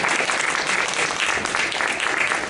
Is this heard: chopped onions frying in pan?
no